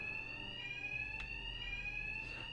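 Steady electronic alarm ringing in the Batman: Arkham Knight video game, a continuous high-pitched tone with harmonics holding unbroken for the whole stretch over a low rumble, with a brief burst partway through.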